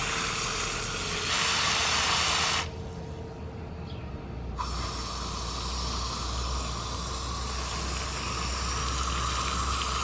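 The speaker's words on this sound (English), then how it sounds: "You want to always water at the base of the plant like this." Water pours steadily at the base of a container-grown tomato plant, a continuous close hiss and splash that runs through the whole stretch without a break and with no talking.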